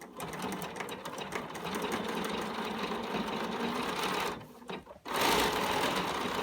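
A sewing machine topstitches denim jeans in a loud, continuous run, stops briefly and then starts again close by.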